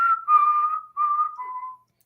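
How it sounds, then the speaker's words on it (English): A person whistles a short clear tune of several sustained notes indoors, close and fairly loud, with brief gaps between phrases and no talking over it. "Or why are you whistling?"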